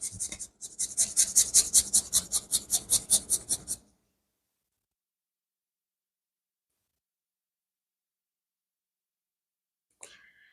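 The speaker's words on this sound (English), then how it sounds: "So a clove of garlic, which I like to zest, because I like lots of garlic flavor in there." A garlic clove is rubbed quickly over a zester, about fifteen rapid, even rasping strokes up close, then silence with one faint click near the end.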